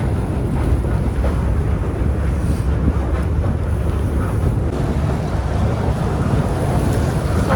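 A dense, rough churning roar with wind buffeting the microphone, steady and loud throughout, as a ship's hull breaks through frozen sea ice off Kemi, Lapland, Finland.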